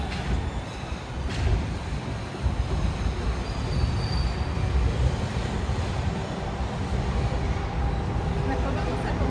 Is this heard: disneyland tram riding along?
yes